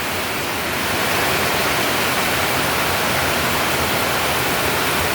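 Steady, dense hiss of heavy rain falling continuously, loud and close, with no voices or other sounds breaking through.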